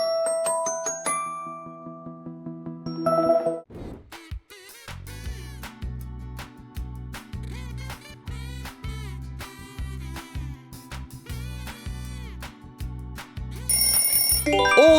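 A BlackBerry smartphone ringtone sounds clearly, opening with tonal chime notes, then a longer electronic melody over a repeating bass pattern, steady and prominent.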